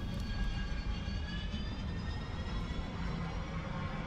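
A Harrier AV-8C jet in War Thunder spools up its engine, a loud continuous roar with rising whine tones that climb steadily in pitch, with no voices over it.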